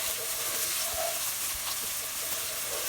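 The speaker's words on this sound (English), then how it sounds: "So once the butter has melted, we will add the chopped onions to it and cook it for a few minutes" Chopped onions sizzle steadily in melted butter in a pan, a continuous close hiss with faint crackles throughout.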